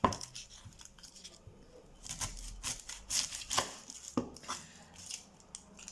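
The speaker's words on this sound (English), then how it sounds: "the first thing I'm going to do is chop my onion" An onion is chopped with a knife on a board, irregular crisp cuts and slicing crunches coming in quick clusters, close and fairly quiet, with no voices.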